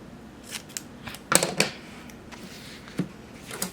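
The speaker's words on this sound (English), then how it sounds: "Cut the sticker in half." Scissors snip through a sticker for planner decorating: a few sharp, close cuts, with the loudest pair near the middle and another a moment later, over quiet room tone.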